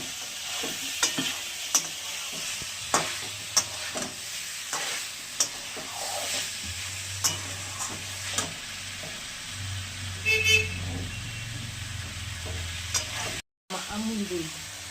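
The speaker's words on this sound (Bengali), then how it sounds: "কষাতে কষাতেই সিদ্ধ হয়ে গেছে, একটু তেল ছেড়ে দিয়েছে পুরো" Cauliflower stir-fries in oil with a soft continuous sizzle. Regular spoon scrapes and clacks against the pan keep a steady rhythm, a low hum rises in the background, and no one speaks.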